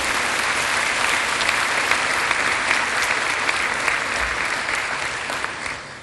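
Dense, sustained audience applause fills a graduation ceremony hall at a performing arts center, steady and loud throughout before tapering slightly at the end.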